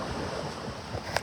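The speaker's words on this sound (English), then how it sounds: "hopefully you guys hear me, because you hear the waves splashing" Ocean surf washes ashore on Maui, a faint, steady hiss and rush of waves mixed with light wind noise on the microphone.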